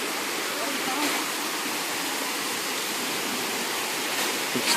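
A flowing stream rushes in a continuous, fairly loud broadband wash of water, steady throughout with slight surges and no break.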